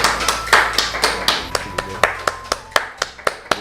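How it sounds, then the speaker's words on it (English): A small group clapping for a guest on a podcast-style talk show, loose rhythmic claps with distinct individual hand strikes close by, fading to a few sparse claps by the end. "massive round of applause for Daniel"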